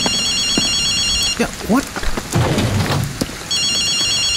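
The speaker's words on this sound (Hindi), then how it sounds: "यहाँ पे एक फोन भी बज रहा है।" A telephone in Ghostwire: Tokyo rings with a bright, warbling electronic trill in bursts at the start and end, broken in the middle by a short spoken exclamation and game noises amid a rainy, stormy backdrop.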